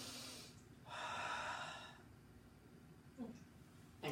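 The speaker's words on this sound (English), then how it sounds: "go ahead and take a deep breath and exhale" One person takes a deep breath in and then exhales during a measurement, a soft, close, airy rush of breathing followed by a few quiet snort-like sounds.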